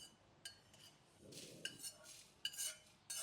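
Roasted spices are scraped from a pan onto a plate with a metal spoon. Faint clinks and scraping come in a few separated taps, plus a soft shuffling rustle.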